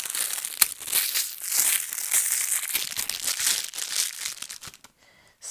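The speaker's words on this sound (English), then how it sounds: "So I'm gonna open it." A packaged bear paw snack being opened: close, crisp crinkling and tearing of a plastic wrapper in irregular bursts, with a sharp snap early on, before it falls quiet near the end.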